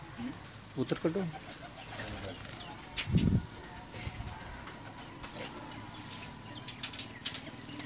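Pigeons on a rooftop in Jamalpur Syedan, Gujrat, with a few short bursts of wing flapping and soft cooing against outdoor background noise, voices murmuring faintly in the distance.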